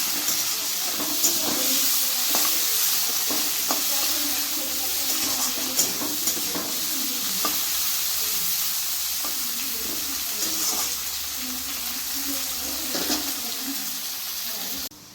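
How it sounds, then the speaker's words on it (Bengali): Rice ingredients frying in a spoonful of ghee make a loud, continuous hiss and sizzle, with faint scraping of stirring running through it. "এক চামচ মতো ঘি দিয়ে দেবো ঘি অ্যাড দিয়ে এটাকে ভালো করে ভেজে নিতে হবে"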